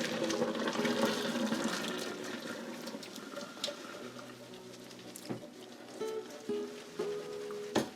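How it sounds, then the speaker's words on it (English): Cooking liquid from a pot strained off, a loud pouring gush that tapers into trickles and drips, with a few metallic clanks of the pot near the end. "turn that off, and I'm going to strain it"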